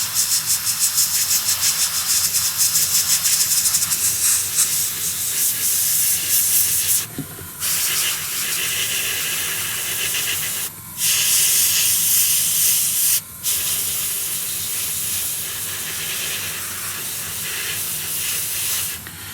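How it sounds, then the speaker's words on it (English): An airbrush sprays paint onto a scale model Brummbar tank in a steady, close hiss, broken by a few brief pauses between quick passes. "So I'm just doing very quick movements with the airbrush."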